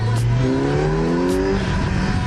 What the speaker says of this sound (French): Le bruit qu'elle fait, alors que c'est le pot d'origine, c'est abusé.